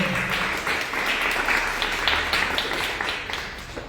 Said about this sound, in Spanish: Un aplauso para Norma, por favor.